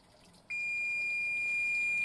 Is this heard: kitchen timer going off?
yes